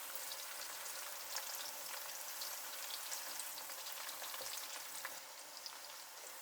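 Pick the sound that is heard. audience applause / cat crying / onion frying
onion frying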